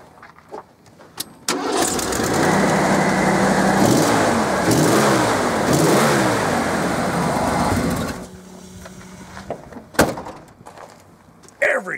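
A 302 Ford V8 in a 1990 Ford Bronco 4x4 cranks and starts, then idles loudly with a steady, pulsing rumble for several seconds before being shut off, followed by a door-like thud and quieter handling sounds.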